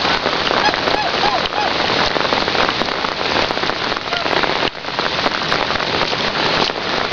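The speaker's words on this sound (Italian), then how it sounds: "Piove troppo? Vabbè, piove troppo." Heavy rain falls during a flood, a dense, loud, continuous hiss and patter of drops striking surfaces close by, steady throughout with only a brief dip, and no voices clearly heard.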